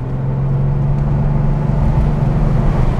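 A 1994 Porsche 993 Carrera with its air-cooled rear engine pulls on a winding country road, a steady loud low drone heard from inside the cabin.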